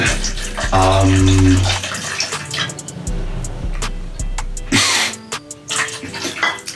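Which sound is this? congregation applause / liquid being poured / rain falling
liquid being poured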